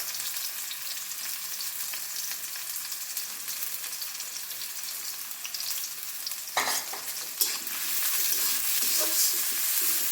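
Cabbage and onion fry and sizzle in oil in a pan, a steady dense hiss throughout with a couple of sharp stirring scrapes near the end, close and alone.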